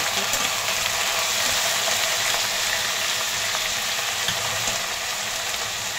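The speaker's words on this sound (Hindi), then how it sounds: "भिंडी और बटाटा डाल देते हैं" Okra and potato fry with onion in a pan for bhindi sabzi, a loud, steady hiss of sizzling oil that stays even throughout, with faint scraping underneath and no talk.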